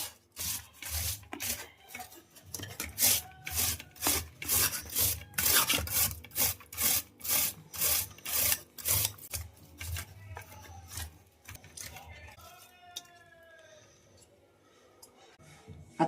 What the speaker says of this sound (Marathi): आता किसून घेऊया.